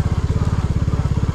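A Royal Enfield Classic 350 motorcycle rides a rough, broken road, its single-cylinder engine thumping in a quick, even pulse, close and steady throughout.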